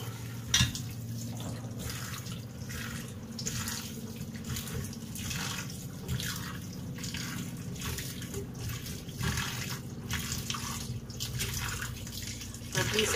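Tap water runs and splashes in a kitchen sink while raw mangoes for pickle are rubbed and rinsed, giving a steady wash of running water broken by rhythmic swishing pulses as the fruit is handled, close and moderately loud.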